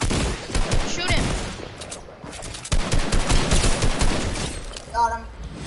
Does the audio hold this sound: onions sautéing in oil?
no